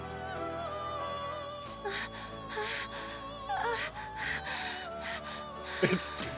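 A Persona 5 Royal character makes breathy gasping and moaning noises over sustained game music, several short strained breaths rising near the end.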